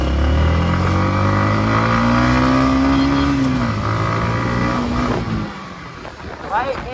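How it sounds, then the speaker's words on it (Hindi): An MT motorcycle engine drones loudly and close while riding, its pitch rising steadily and then easing back as the bike slows, with wind rush and a brief voice near the end. "अपनी एमटी कुछ अलग ही आवाज़ निकालती है"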